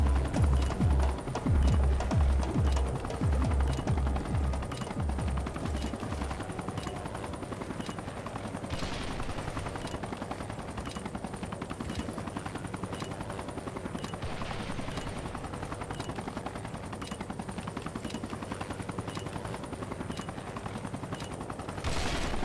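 An enemy helicopter in the shooter game Special Force 2 throbs loudly and steadily throughout, its rotor chop mixed with bursts of machine-gun fire early on, with no voices.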